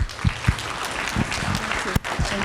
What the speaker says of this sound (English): So with a very big round of applause, please welcome President Ms.